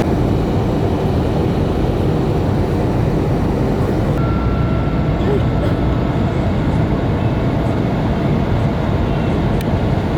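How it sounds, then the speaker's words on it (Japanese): Passenger airplane cabin during the approach to landing, filled with a loud, constant broadband engine and air roar that stays even throughout, with a faint voice underneath. "我们的飞机马上就要着陆了"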